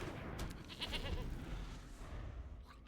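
A goat card from MTG Arena bleats in a game, a short bleating cry rising over a steady low background hum, fairly soft and brief.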